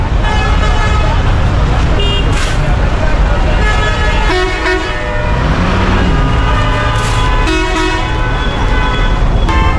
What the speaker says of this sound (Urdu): ایویں ہی ہارن ماری جا رہے ہیں ایویں